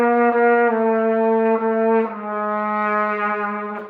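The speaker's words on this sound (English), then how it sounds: "Then you get nothing without a fourth valve until you hit your pedal tones, which sound like this." Low pedal tones played on a Conn 80A trumpet, a few sustained, loud brassy notes one after another with small dips between them, unaccompanied.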